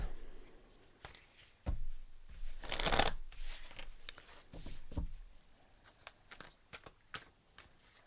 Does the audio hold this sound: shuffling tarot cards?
yes